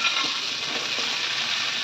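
Pieces of papaya and carrot, cut into rounds, frying in a pan give a steady, even sizzle that holds close and loud the whole time, with no voices present.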